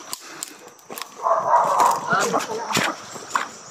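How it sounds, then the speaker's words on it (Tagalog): Several dogs bark near a house on a rainy day, a few sharp yips and barks over steady rain and background noise, with people talking. "May mga aso dyan."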